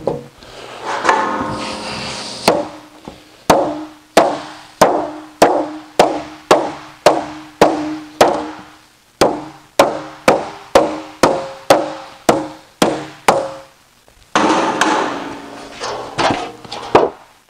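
Metal panel for a Jaguar E-Type bonnet takes a steady series of about twenty sharp, ringing hammer blows at a regular pace, close and loud, with scraping and shuffling handling noise before and after.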